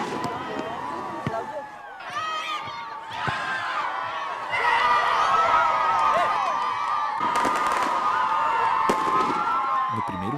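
Football supporters of Nacional de Acapuri de Baixo make a loud, sustained roar at a rivalry match against Bom Sucesso, with cheering and crowd noise building and staying dense throughout.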